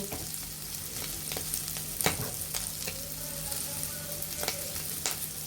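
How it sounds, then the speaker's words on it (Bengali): A spice masala of chili powder and coriander powder sizzles steadily in a pan for a prawn chorchori, with occasional sharp scrapes and clinks of a stirring spoon, close and fairly quiet, with no talking. "এখন একটু হালকা জল দিয়ে মশলাটা ভালোভাবে ভেজে নিতে হবে"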